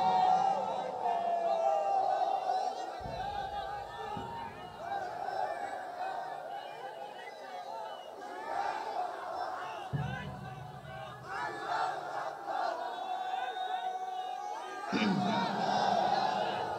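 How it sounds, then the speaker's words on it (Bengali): Large crowd at a Bengali Islamic waz sermon chanting the takbir in rising, massed shouts that return in several waves, with an amplified voice leading between them in a reverberant outdoor setting. "একজন তাকবীর দাও, তাকবীর দাও"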